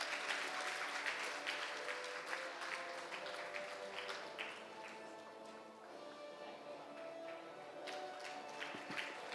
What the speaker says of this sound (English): Can we give her a huge round of applause, please?